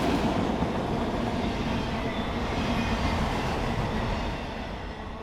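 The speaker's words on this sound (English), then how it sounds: "This was your run-of-the-mill auto train out of Alliance Yard." A BNSF auto train rolls past on the Fort Worth Sub, a continuous loud rumble of wheels and railcars with a broad rushing roar that holds steady and eases slightly toward the end.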